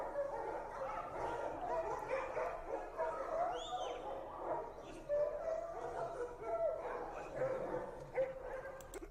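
Dogs bark and yip outside in a neighborhood, a faint, distant chorus of repeated barks and whimpers carrying on steadily, with someone talking over them at moments.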